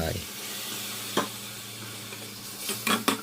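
A fish sauce, water and palm sugar mixture simmers and sizzles softly in a pan for a sweet chili sauce over fried tilapia, with a few stirring scrapes near the end.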